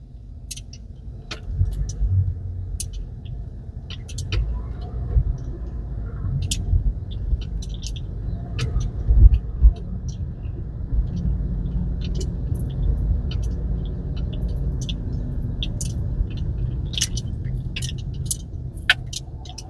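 A car drives through heavy street traffic in Honolulu, Oahu, Hawaii, with a steady low engine and road rumble heard from inside and scattered sharp ticks and rattles.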